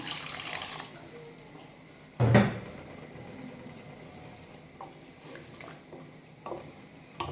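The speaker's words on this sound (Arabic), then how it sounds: "غادي نزيد فيها شويه ديال الماء" Water is poured into a cooking mixture for Moroccan sfa (sweet vermicelli), first a soft trickle, then a short loud splash and pour, followed by quieter liquid sounds and small clinks.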